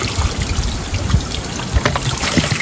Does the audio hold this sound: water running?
yes